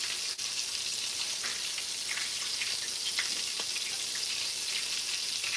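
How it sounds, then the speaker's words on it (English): Pork chops fry in a pan with a steady, dense sizzle and crackle, close and continuous, with small pops scattered throughout and no voices. "I'm frying a couple of pork chops."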